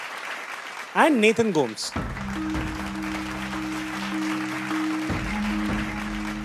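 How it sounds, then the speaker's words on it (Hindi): An audience applauds steadily at a televised tech comedy show's grand finale. A host's voice announces briefly at the start, then sustained clapping continues beneath steady music tones. "दोस्तों तालियां बजती रहनी चाहिए."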